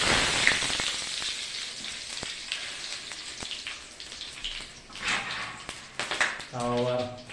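Chicken fries in a pan with a steady crackling sizzle and sharp spits, moderately close, joined near the end by a brief clatter of stirring and some background voices.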